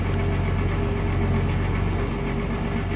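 A submarine engine in the video game Wolfpack rattles away in a steady, loud, continuous low drone with a constant throbbing hum.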